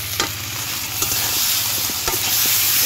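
Fried fish is stirred into sizzling spice paste in a pan for a village-style Sundarbans river fish curry, with a loud, close, continuous sizzle broken by scraping stirs.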